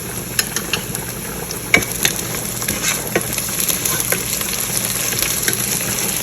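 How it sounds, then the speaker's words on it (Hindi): Onions browning in a pan with ginger-garlic paste, a dense, steady sizzle and crackle with frequent scraping stirs, close and fairly loud throughout. "प्याज हमारे ब्राउन हो रहे हैं, ऑलमोस्ट ये डन हो गए हैं।"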